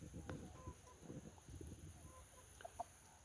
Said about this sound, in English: These chickens can communicate,